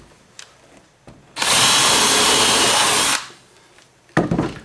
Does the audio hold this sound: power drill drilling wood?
yes